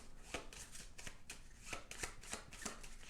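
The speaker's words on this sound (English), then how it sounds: "So I'm going to first take those bonus scoring goal cards and shuffle them up" Bonus scoring goal cards for the board game Bandada are shuffled close up, a series of quick crisp riffling snaps repeating about every third of a second over quiet room tone.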